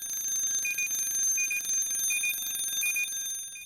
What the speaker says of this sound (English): and low pressure alarm